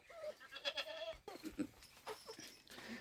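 Penned goats bleat repeatedly at close range at feeding time, several wavering calls overlapping one another in quick succession.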